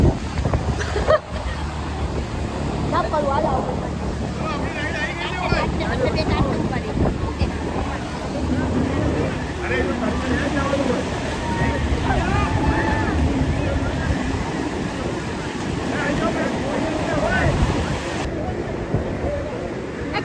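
A speedboat ride on the sea off a beach near Dwarka: steady engine drone, rushing water and wind buffeting the microphone run throughout at close range, with people talking and calling out over it.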